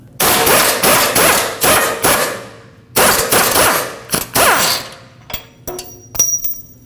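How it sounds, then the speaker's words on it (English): A 14mm socket on a tool working loose the rear shock mounting bolt of a 2020 Toyota Corolla, heard as loud close rattling bursts of varying length separated by short pauses, ending in lighter metallic clicks. "With a 14mm socket, remove the mounting bolt."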